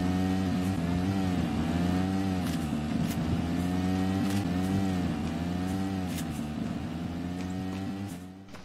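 A car in the battle royale game Knives Out drives with a steady, loud, close engine drone that swells in pitch as it accelerates, then eases slightly and fades near the end.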